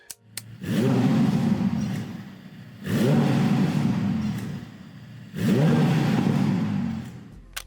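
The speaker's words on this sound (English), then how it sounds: "engine sounds great, even though it's turbocharged" A turbocharged car engine roars through three separate revving bursts, each climbing and holding for about two seconds before dropping back, loud and close.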